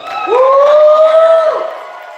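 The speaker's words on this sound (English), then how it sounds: "Round of applause" An audience cheers in one loud, sustained whoop that rises, holds for over a second and then trails off, with little clapping standing out beneath it.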